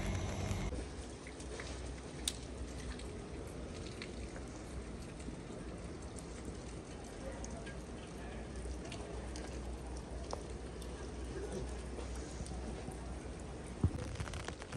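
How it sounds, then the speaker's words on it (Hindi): Light rain falls outdoors on a university campus in China in January, a steady, soft, even hiss of drops with a cool breeze, continuing without a break and with no voices. "हवा भी ठंडी चल रही है और बारिश भी हल्की हल्की सी है।"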